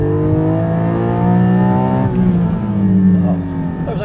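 A 2021 Porsche Cayman GT4 PDK engine revs hard toward 7,000 rpm on a track, a loud rising multi-toned howl whose harmonics climb steadily before easing slightly, heard up close without talk.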